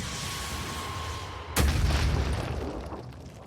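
A rocket blast in the Phoenix Point video game, one sudden booming explosion that cuts through a quiet background and fades slowly.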